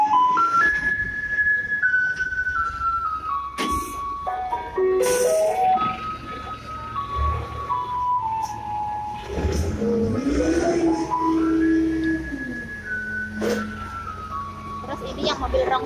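A garbage truck arrives on a Taiwanese street playing its loud melodic jingle, a tune of stepped notes that slide up and down, with traffic and engine noise under it and a person talking nearby.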